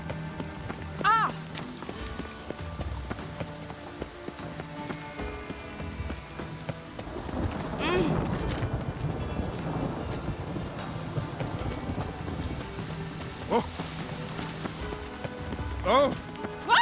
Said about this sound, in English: Rain again. Damn mages. The Pontar will rise yet again.